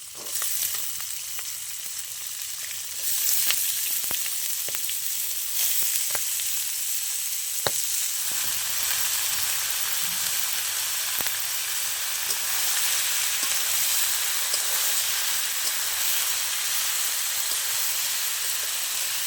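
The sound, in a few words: cut ash gourd added to frying chickpeas, sizzling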